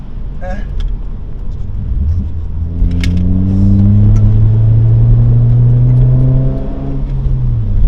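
A car driven hard through a corner on a back road, its engine rising in a loud close revving climb that holds and then eases off, with someone speaking briefly over the start.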